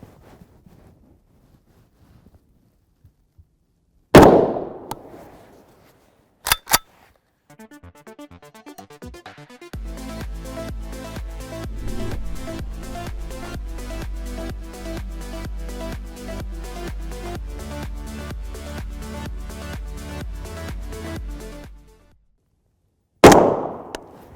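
7.62x39mm rifle rounds, 124-grain 8M3 hollow points, fired into ballistics gel: a loud sharp report near the start, another near the end, and a couple of brief bangs between, with a steady mechanical hum running underneath.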